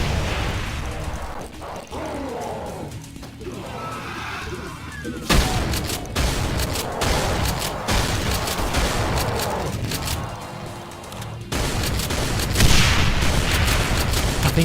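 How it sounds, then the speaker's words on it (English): Brutal Doom game audio delivers a grenade blast followed by repeated shotgun blasts, loud, abrupt and punchy, amid busy in-game noise. "gonna run away from that grenade before it blows my eardrum."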